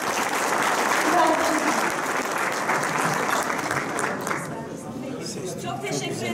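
Large audience applause at an award ceremony in Ankara, a dense, loud wash of clapping with some crowd chatter beneath, sustained for several seconds before easing off slightly toward the end.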